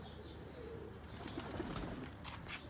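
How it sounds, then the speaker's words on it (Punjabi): Sialkoti pigeons give soft, low coos at a distance, faint beneath a steady background hum, with a few light flutters and no talking. "ਇਹ ਸਿਆਲਕੋਟੀ ਕਬੂਤਰ ਨੇ।"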